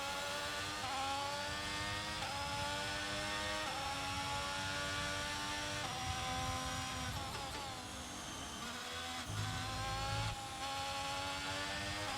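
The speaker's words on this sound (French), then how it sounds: "On va faire gueuler un peu le moteur." A Formula 1 car engine revs in a racing video game, a loud, continuous high-pitched whine rising and falling through repeated gear shifts over about twelve seconds, with no talking.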